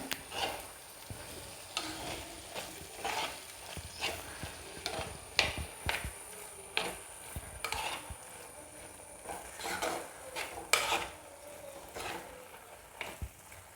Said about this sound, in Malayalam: ഇനി ഇതേ ഇതൊന്ന് നന്നായിട്ട് മിക്സ് ചെയ്യാൻ പോവാണേ